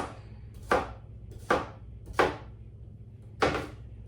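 A knife slices small, tiny cucumbers on a cutting board in four distinct, crisp cuts at an uneven pace, each a sharp chop that fades quickly, close and clear with no talking.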